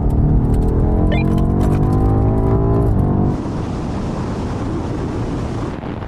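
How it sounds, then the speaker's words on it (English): A BMW M5 CS and an M5 Competition accelerate hard side by side in a rolling race from 50 mph, engines roaring with rising harmonic tones for three seconds before dropping into steady, loud wind and road rush. "Now we're going to do another rolling race from 50 miles an hour"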